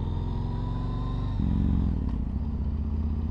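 A motorcycle engine with its baffles removed runs close by with a raw, throbbing note, then jumps to a louder, harsher rev partway through before settling into a rough, pulsing idle, with no voices.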